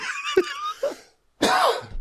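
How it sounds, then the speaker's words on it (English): A few harsh, close coughs separated by short pauses, ending in a rough throat-clearing burst. "I hate this cough"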